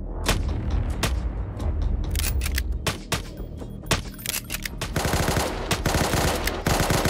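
A mounted turret machine gun in the game Unturned fires in loud, rapid bursts of sharp cracks, with short pauses between volleys and a dense sustained stretch near the end.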